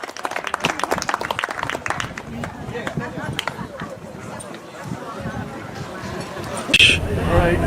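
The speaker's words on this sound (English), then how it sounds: "Ladies and gentlemen, another round of applause for our Bulldog Bat Boys, Coulter Zabransky and Drew Murphy." Crowd at a high school baseball game, Camden versus Gilbert, applauding the bat boys: a mix of scattered claps and general hubbub from the stands, with some chatter mixed in, the clapping stronger at the start and fading into crowd noise.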